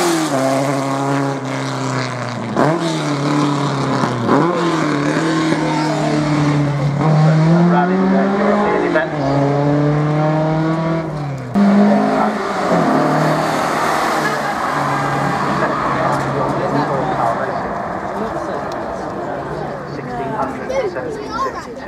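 Touring race cars, a Triumph Dolomite Sprint and an Alfa Romeo GT Am, roar past loudly with rising and falling engine notes through repeated gear changes, continuous over about twenty seconds with commentary talking throughout.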